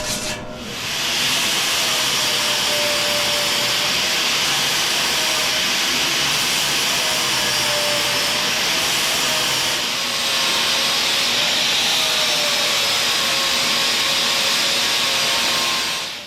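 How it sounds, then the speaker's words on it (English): Angle grinder smoothing welds on steel angle iron atop a heavy metal treasure chest, a loud continuous abrasive hiss and whine that runs steadily almost the whole time after a brief start. "this is the angle iron on the top, which we're going to grind these smooth like the other side."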